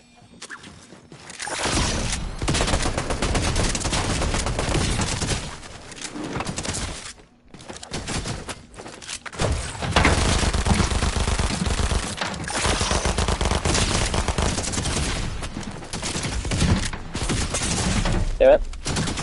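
Bomb impacts and explosions in the video game Fortnite come as dense, loud bursts of blast noise through most of the stretch, with brief drops between barrages and a voice talking over parts of it.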